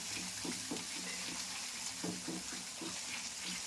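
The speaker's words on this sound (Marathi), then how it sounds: "सगळा मसाला तेलात भाजून घ्या" Spice masala roasting in hot oil for a chhole bhaji curry, a soft continuous sizzle with faint scraping stir strokes, fairly quiet and steady with no talk over it.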